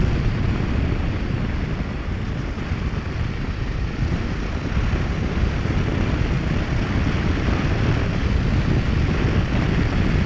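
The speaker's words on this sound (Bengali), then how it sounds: "হাওয়া বাজছে গায়ে" Loud, steady wind roar buffets the microphone throughout a Duke 250 motorcycle ride on an open road, a continuous low rushing with no talk.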